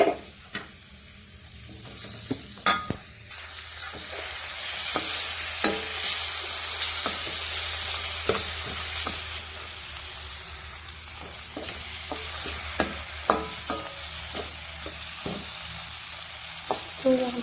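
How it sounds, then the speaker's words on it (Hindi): Tomatoes and vegetables fry and sizzle in a pan, with a steady hiss broken by repeated sharp scrapes and knocks of a spoon stirring, no talking. "टमाटर को अच्छा कुक कर लेंगे अब इसे मिक्स करके"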